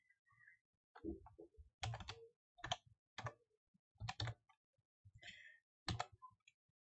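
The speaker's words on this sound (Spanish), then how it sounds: "pasando de un lado a otro con las flechas del teclado" Arrow keys on a computer keyboard are pressed while moving between cells in an Excel spreadsheet, giving a series of crisp, separate clicks at an irregular pace, close and quiet in an otherwise silent room.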